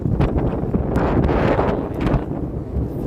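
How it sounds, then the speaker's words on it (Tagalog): Strong wind at sea with rough waves buffeting the microphone on a fishing trip in a continuous loud roar, with gusty rumbling and no voices. "Malakas ang alon. Malakas pa yung hangin."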